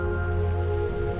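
Steady rain falls continuously with a dense, even patter on surfaces, over a low steady hum and no speech.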